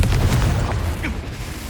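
A blasting-spell explosion in Hogwarts Legacy, a single heavy low boom that hits at once and rolls away over a second or so, alone without talk.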